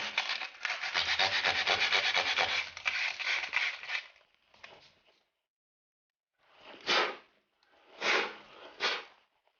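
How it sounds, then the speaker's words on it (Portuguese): Sandpaper rubs the burred edge of a hole in a plaster wall, starting with several seconds of steady, close rasping scrubbing, then short separate bursts of sanding after a pause. "vou passar a lixa na borda do buraco porque ele tem uma rebarba"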